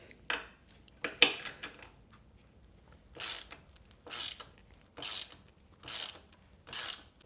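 Ratchet wrench fitted with a Torx 45 bit backing out the engine brace screws on a 2024 KTM 300 EXC TBI dirt bike, heard up close as several short bursts of rapid clicking, spaced apart and separated by quiet pauses.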